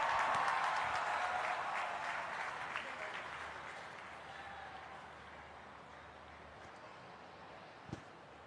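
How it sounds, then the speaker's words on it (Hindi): Applause from a crowd at a hospital's 25th anniversary event, loud and dense at first, then thinning and fading over several seconds, with a single sharp clap near the end. "जोरदार तालियों के साथ स्वागत करें।"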